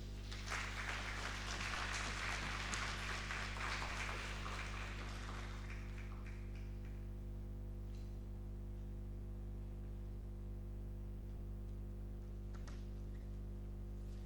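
A crowd applauds for several seconds, then the clapping quickly fades into a quiet room hum with a few scattered noises.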